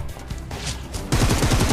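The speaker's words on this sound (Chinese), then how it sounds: "我听到他开枪了，在60方向" Gunfire in a multiplayer shooter video game, a rapid burst of shots rattling quickly and closely, growing louder and denser toward the end, with no talking.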